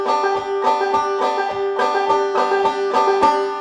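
A five-string banjo picking pattern rolls along at a quicker pace, a dense run of bright plucked notes in steady rhythm, close and ringing with no talk.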